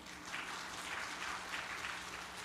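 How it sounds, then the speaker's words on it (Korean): A church congregation claps during a Korean worship service, giving soft, even applause that sounds somewhat distant and fills the whole moment at a steady level. "박수 한번 해줄까요 우리?"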